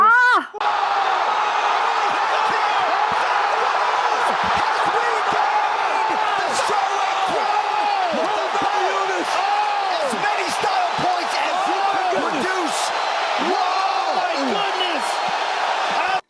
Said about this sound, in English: Cue the people cheering.